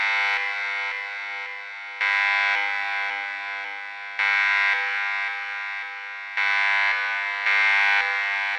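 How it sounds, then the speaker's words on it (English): A synthetic alarm from the video game Sepbox v8 blares in repeated pulses, each burst holding a harsh, buzzing tone with a slight rise and fall, loud and steady without any voices. "Clearly, we have an alarm."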